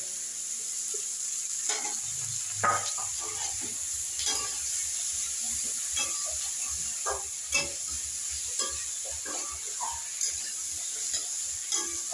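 Onion and chopped tomato stirred while frying in a pan for crab curry, a steady sizzle broken by repeated scraping stirs and clinks of the spoon, close and clear with no talk.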